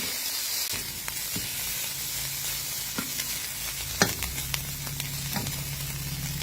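Som khai, a fermented sour egg dish made with rice, sugar and seasoning and fermented for three nights, sizzles steadily in a frying pan on a gas stove, with occasional stirring clicks and scrapes and no talking.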